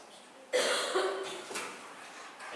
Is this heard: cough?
yes